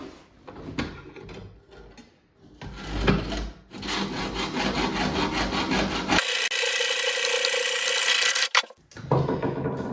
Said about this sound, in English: hacksaw with a metal blade.